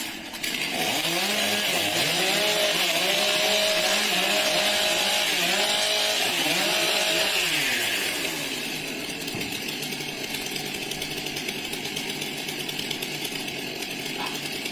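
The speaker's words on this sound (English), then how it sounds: "Warm up your saws." Chainsaws warming up at a STIHL Timbersports competition roar loudly together, engines revving in rising and falling waves for about eight seconds before easing to a lower, steadier idle drone.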